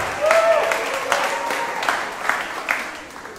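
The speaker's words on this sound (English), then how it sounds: "Should we have a round of applause for everyone that's here for the first time?" A church congregation claps for first-time visitors, a moderate wash of applause with some individual claps standing out, plus a faint voice or tone over the noise near the start.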